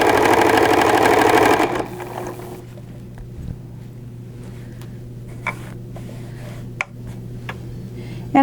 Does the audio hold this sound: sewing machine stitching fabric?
yes